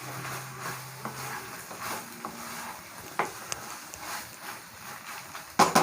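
Paneer pasta with pepper powder being stirred in a pan over medium-high flame, faint scraping and soft clinks of a spoon against the pan over a low sizzle.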